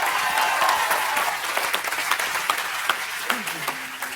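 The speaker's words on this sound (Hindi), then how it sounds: "जोरदार तालियां एक बार।" Studio audience on a Hindi comedy talk show breaks into loud sustained applause, a dense wash of clapping that thins slightly toward the end, with scattered sharper claps and a brief voice near the close.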